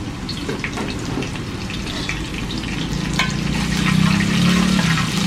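Chopped green chillies frying in hot oil with mustard seeds, cumin, cloves and fenugreek, a steady close sizzle with crackling and stirring that swells slightly toward the end.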